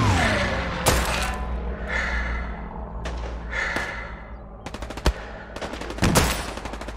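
Strafing gun run in Hell Let Loose, heavy machine-gun bursts and rapid rattling fire with sharp impacts and thuds, close and loud, mixed with gasps and breaths from a nearby player.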